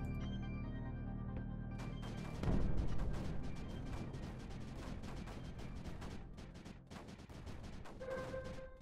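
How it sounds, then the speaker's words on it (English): Mortar explosion in the Creeper World 4 video game, a low rumbling blast partway through, followed by a long stretch of rapid crackling impacts and scattered pops. "What blew up over here? Mortar, I think."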